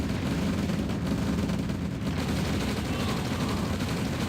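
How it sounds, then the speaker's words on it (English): Artillery shots and dense combat fire in the Red Alert real-time strategy game, a continuous loud barrage of overlapping booms and crackling gunfire filling the whole stretch with no pause. "he sacrifices himself to get the artillery shot off"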